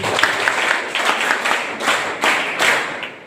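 Students at a school talk on legal rights applaud together in several rolling bursts of clapping that swell and fade, a crowd of hands filling the room with no voices over it.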